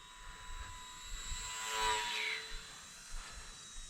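A small electric E-Flite UMX F4U Corsair RC plane flies overhead, a steady high whine that swells to its closest pass around mid-clip and then fades, with faint outdoor background and no talk.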